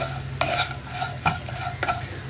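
A spoon scrapes and stirs through aval upma in a pan as turmeric and spices are mixed in. Three or four distinct strokes sound over a faint, steady hum, quiet and close, with no voices.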